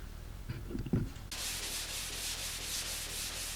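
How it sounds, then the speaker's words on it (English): Sanding and scuffing parts of a 1994 Dodge Ram 2500 truck in a paint booth, a steady close hissing abrasion starting abruptly after a few soft knocks and continuing evenly to the end. "So I'm in the paint booth and I'm sanding."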